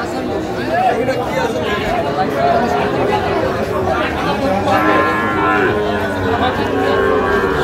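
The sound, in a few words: bull calf mooing at a cattle market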